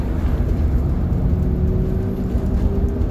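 An empty 40-foot school bus driving along a road, a steady low engine drone and road rumble heard from inside the cabin, continuous and fairly loud with no talking.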